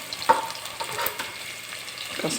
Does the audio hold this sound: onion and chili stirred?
yes